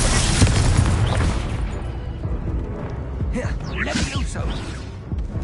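Expelliarmus disarming spell cast in the Hogwarts Legacy video game: a booming magical burst with swooshing bolts and crackling impacts amid dense, continuous battle noise.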